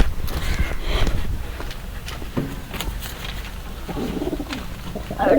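Pigeon cooing from a home-kept pet pigeon, soft low coos scattered through the stretch amid some fluttering and background rustle, moderately close with a louder burst near the end.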